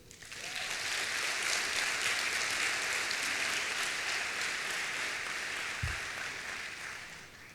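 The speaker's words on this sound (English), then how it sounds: "Once more, a round of applause for those children." An audience at the Global Education and Skills Forum in Dubai applauds a group of children, a dense, steady wash of clapping that holds loudly throughout before easing slightly at the end.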